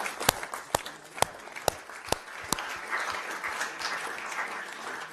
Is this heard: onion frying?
no